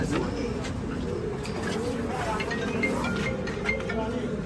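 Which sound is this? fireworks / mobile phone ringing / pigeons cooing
pigeons cooing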